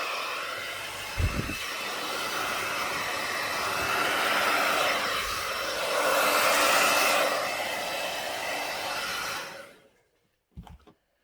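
A hair dryer blows air across a small purple and metallic acrylic Dutch pour, a loud steady roar that swells slightly and runs for about nine seconds before cutting off, followed by a couple of soft knocks.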